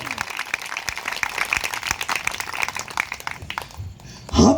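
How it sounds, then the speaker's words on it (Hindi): A crowd at a gospel meeting claps loudly and steadily for several seconds, then the clapping fades and a voice begins speaking. "जोरदार ताली हम उसके लिए बजाएं"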